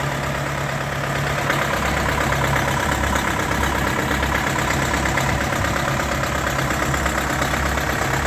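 An Orion JD404 diesel tractor with a cab idles steadily up close, a loud, even rumble with a rapid knocking pulse throughout.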